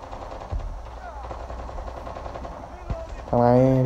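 Gunfire in the Call of Duty Mobile video game, including sniper play: a few sharp, separate shots ring out over low game ambience, and a tonal in-game effect begins near the end.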